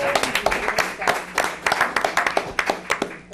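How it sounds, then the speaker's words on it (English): Short round of applause at a board of education meeting for an academic challenge team, a brisk patter of hands from a modest room of people. "One more round of applause for our academic challenge"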